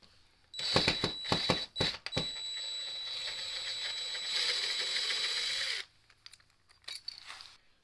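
A power screwdriver drives a screw into a block of wood during a window installation, with a few quick clicks and short bursts, then a sustained whirring run of several seconds that stops abruptly, followed by faint handling noise.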